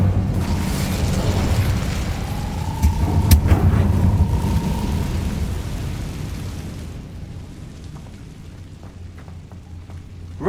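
An Incendio fire spell bursts in Hogwarts Legacy, a loud whooshing flame blast with a sharp crackling pop over a dense rumbling game soundscape that fades to quieter ambience after several seconds.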